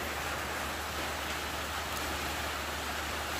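Heavy rain falls steadily near a waterfall in Nagcarlan, Laguna. It makes a dense, even hiss that never lets up, soft and distant in level, with no voices.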